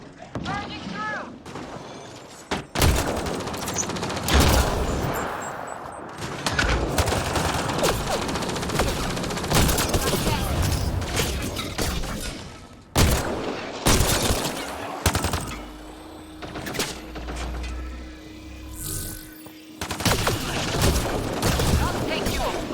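Dense gunfire and explosions fill a Mass Effect Andromeda combat sequence, with rapid bursts, heavy booms and a low droning hum, while voices speak in between.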